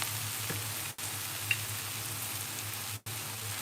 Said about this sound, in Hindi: इसके बाद मैं यहाँ सोया सॉस डालूंगी।